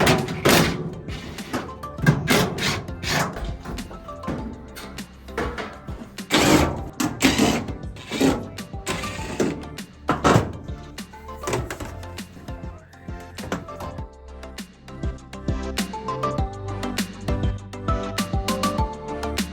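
Irregular mechanical clunks, clicks and scraping of metal parts as the screws and top panel of a Samsung dryer are removed, with occasional louder thuds and rattles, no talking.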